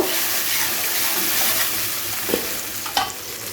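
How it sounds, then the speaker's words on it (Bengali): Tomato puree sautéing in a pan for a Gandhoraj tomato katla (fish curry), a steady close sizzle with a couple of brief utensil scrapes near the end, no voices. "টমেটোটাকে দিয়ে আবারও খুব ভালোভাবে কষিয়ে নেব।"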